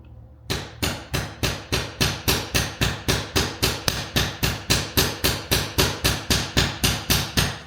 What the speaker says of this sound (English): So when you're hammering, you want to like feed it through.